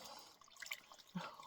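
Hand-washing clothes in a tub of water indoors gives faint, close sloshing and light splashes with scattered drips, short irregular movements of cloth in liquid.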